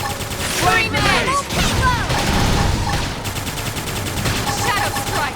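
A flame grenade bursts amid chaotic combat in Xenoblade Chronicles X, with dense layered effects, sweeping whooshes and rapid impacts under shouted battle callouts from character voices.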